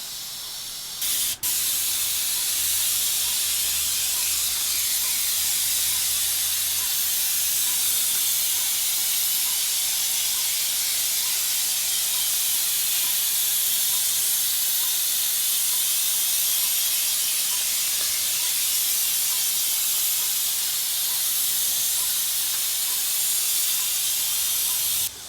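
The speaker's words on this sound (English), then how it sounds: "You go a lot slower than you typically would with a regular airless spray and spraying regular paint." An airless sprayer applies thick elastomeric paint to stucco walls, giving a loud, steady spray hiss that runs unbroken for the whole stretch.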